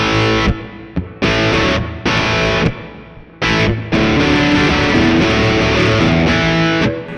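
Heavily distorted electric guitar through a Mooer Preamp Live with solo boost plays loud sustained chords in bursts with short breaks, then rings out continuously.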